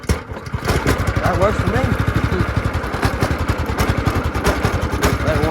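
A motorcycle engine after a winter in storage, started and settling into a steady, rapid idle with a bad clutch, running loud and continuous while a person speaks briefly over it.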